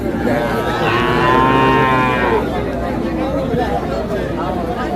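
Friesian cross heifer calves moo loudly at Hazratpur cattle market, one long drawn-out low amid a busy crowd hubbub, with people talking nearby.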